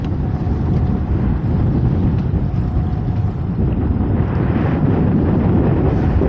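Strong wind buffets the microphone on a lobster fishing boat, a heavy continuous low roar with engine and water rumble beneath, no voices.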